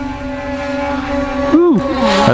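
A Halo drone flying at full throttle and full forward pitch puts out a high, tonal motor whine that swoops sharply in pitch partway through and then settles back to a steady buzz.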